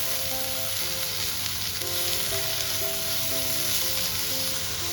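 Tomatoes sautéing in a pan for a duck roast, with a steady, close, bright sizzle that holds for the whole stretch, no stirring bursts and no voices.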